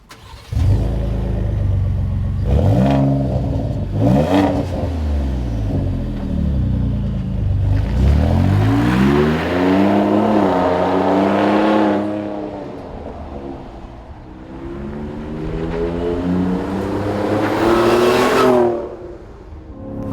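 Ford F-150 Raptor with a Ford Performance dual rear exit sport cat-back exhaust driven on the road, its engine droning loud and near, revving up through gears and easing back in repeated pulls.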